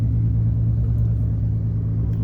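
A mostly original 1950 Plymouth Special Deluxe driving on the road, heard as a steady, heavy low engine rumble from inside the car with no talk.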